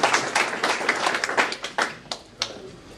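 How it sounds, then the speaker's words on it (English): Club members clap together at a meeting, a fairly brisk run of sharp hand claps that thins out to a few isolated claps near the end, close and moderately loud with no talk over it. "Everybody clap."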